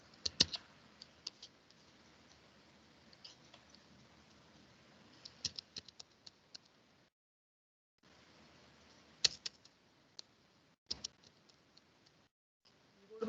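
Someone types on a computer keyboard with quiet, irregular bursts of clicking keystrokes, broken by short silent pauses. The clicks are close but faint, and no voice is heard.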